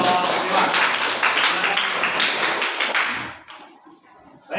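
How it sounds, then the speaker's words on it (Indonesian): Classroom students clap for a presenting group, a dense spread of hand claps that fills the room for about three seconds before tapering off into quieter rustling. "Kasih tepuk tangan untuk kelompok 5."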